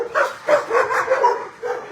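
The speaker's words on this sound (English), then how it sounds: "Barking like crazy." An animal-shelter dog barks in a rapid run of about six short, high yipping barks, close and loud, with brief gaps between them.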